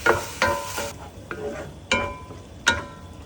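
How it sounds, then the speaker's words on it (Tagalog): Ground pork sautéing in annatto oil in a pan, being stirred and broken apart while it browns, with a soft steady sizzle under several sharp scraping stirs in an uneven rhythm. "Igisa ang ground pork while breaking it apart until lightly browned."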